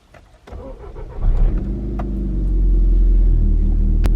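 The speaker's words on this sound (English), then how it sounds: "Let me turn on the car now." A car engine cranks briefly and catches, then settles into a loud, steady low rumble close by; no talking.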